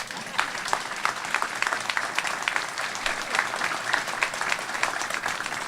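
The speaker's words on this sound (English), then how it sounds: "you can applaud for that" An audience at a Jersey City ribbon-cutting event applauds, a dense, steady patter of many hands clapping continuously throughout at moderate volume.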